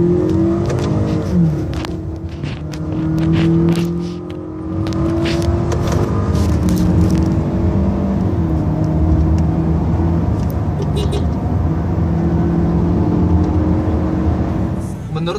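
A 2500 cc Toyota Camry on a test drive accelerates with a steady engine drone and rising tonal whine, heard from inside the cabin, with people talking over it.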